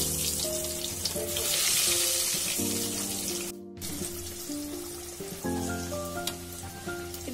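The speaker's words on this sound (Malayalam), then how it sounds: "ഇനി നമുക്കിത് ഓരോന്നായിട്ട് ഫ്രൈ ചെയ്തെടുക്കാം." Bread-coated chilli snacks shallow-fry in hot oil, making a steady crackling sizzle that runs throughout under background music.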